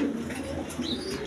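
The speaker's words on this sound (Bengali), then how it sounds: "এইখানে এক পেয়ার কবুতর আছে" A pair of pigeons, a male and a female, coo softly and continuously at close range, over a low background hum.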